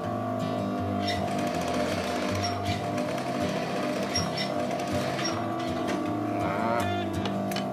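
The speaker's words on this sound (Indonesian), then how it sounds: "Kita jahit ke bawah." A sewing machine runs steadily close by, its motor whirring and the needle chattering in a fast, even rhythm as it stitches the seam of a child's dress, with faint talk now and then.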